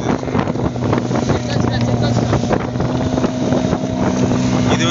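An outboard motor on a prawn-fishing boat drones loudly and steadily close by, with wind buffeting the microphone and water splashing underneath.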